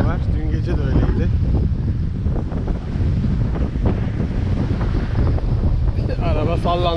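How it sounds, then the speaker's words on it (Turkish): Strong wind buffets the microphone at the Ayvalık seaside beside a parked caravan, a steady roaring gust broken by a person talking over it. "Güzel bir rüzgar var."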